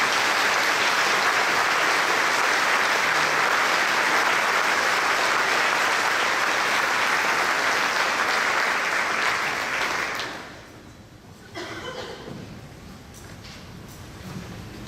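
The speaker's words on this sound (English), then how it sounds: "Let's give everyone a applause" Sustained loud applause fills a banquet hall after names are read at an education foundation dinner, steady for about ten seconds before thinning to a few scattered claps.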